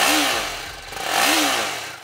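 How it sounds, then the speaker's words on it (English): A 2021 TVS Apache RR310 motorcycle with a 312cc engine and reworked exhaust revs twice, its raspy exhaust note swelling and falling in two close, loud surges. "For 2021, TVS has reworked the exhaust system to produce a better sound."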